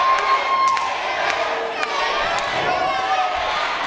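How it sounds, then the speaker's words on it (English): A pro wrestling crowd at a Global Championship Wrestling show cheers and shouts loudly and steadily throughout, with whoops and scattered high voices rising over the roar. "And this crowd is getting in behind him."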